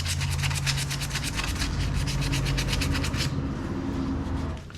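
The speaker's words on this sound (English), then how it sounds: "Got some sandpaper. I'm going to clean just to make the surface off pretty good." Sandpaper rubbed by hand over a rusty front brake caliper on a second-generation Toyota Tacoma, a fast rhythmic scratching of repeated strokes, close and loud, that stops after about three seconds and leaves a quieter hiss.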